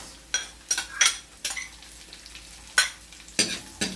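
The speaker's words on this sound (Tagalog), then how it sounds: "Sunod ko na po yung sibuyas." Sliced onions are stirred and sizzle in a pan while cooking squid adobo, with quiet frying under repeated sharp scrapes of a utensil against the pan.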